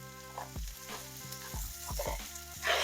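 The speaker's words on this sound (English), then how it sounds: "it's going to make our onions sweat" Salted onions sweat and sizzle in a hot pan for scalloped potatoes and ham, a steady frying hiss broken by several low thumps and scrapes from a spoon stirring them, close and alone.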